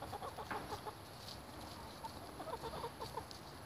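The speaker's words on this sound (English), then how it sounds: "Look at all these chickens." A flock of chickens clucks softly and continuously, scattered and somewhat distant, over a faint steady hum.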